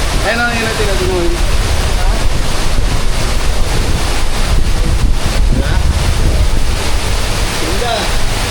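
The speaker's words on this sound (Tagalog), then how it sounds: "Grabe, lakas ng hangin." Strong wind buffets the microphone outdoors beside rushing water, a loud, constant roar with low rumble throughout, and a faint voice briefly near the start.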